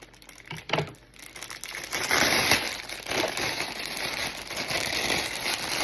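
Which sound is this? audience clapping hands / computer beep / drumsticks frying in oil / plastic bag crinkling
plastic bag crinkling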